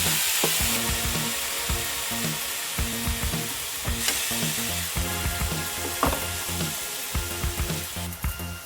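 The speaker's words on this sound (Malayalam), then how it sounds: "സവാള ഇട്ട് ഇഞ്ചി വെളുത്തുള്ളി പേസ്റ്റ്, പച്ചമുളക്, സവാളയും എല്ലാം കൂടി ഇട്ടൊന്ന് വഴറ്റി" Onions sizzle and fry in a pan with ginger garlic paste and green chillies, a steady crackling broken up by repeated stirring clatters and scrapes of a spoon against metal, close and with no voices.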